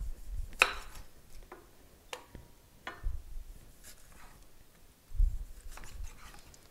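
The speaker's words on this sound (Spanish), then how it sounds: "Y ahora vamos a cortar nuestro tomate para preparar nuestra rica sopa." A knife chopping tomato on a cutting board for a chicken soup, giving several separate close taps at an uneven pace with quiet gaps between them, and no talk.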